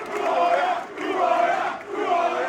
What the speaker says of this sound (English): the Sevilla fans have been making noise in the last 20 minutes